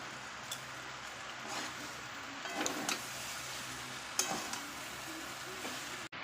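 Spice paste for a fish curry with jackfruit and prawns sautés quietly in a pan, a soft low sizzle broken by a few spatula scrapes and taps, with no one talking.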